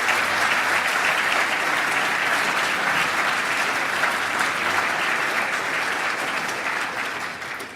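A packed room at an LGBT equality awards gala claps for elected officials, sustained, dense applause at full strength throughout before easing off at the very end.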